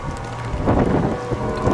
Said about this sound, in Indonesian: Nasıl bir şimşek çaktı arkadaşlar?